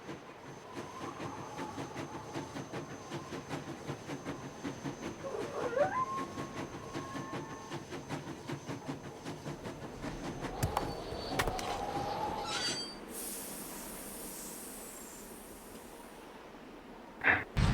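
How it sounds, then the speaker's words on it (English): A train in the video game Nancy Drew: Last Train to Blue Moon Canyon chugs in a steady rhythmic clatter, then hisses and pulls away as departing noise fades into a bright hiss. "Sounds like the train's leaving."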